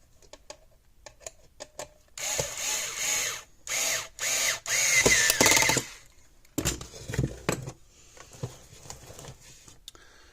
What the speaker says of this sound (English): we'll take a screwdriver and we'll fasten it up.